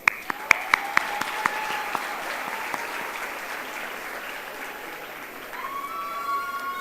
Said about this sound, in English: Round of applause to our esteemed teachers